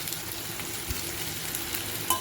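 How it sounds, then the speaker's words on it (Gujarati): Chopped chillies, garlic, tomato and ginger pieces sautéing in a pan, with a steady soft sizzle, occasional stirring scrapes and a small clank near the end, close and continuous with no talking. "આ થોડું સાંતળી દે."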